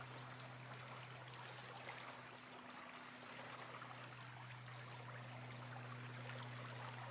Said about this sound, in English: Just listen to the river.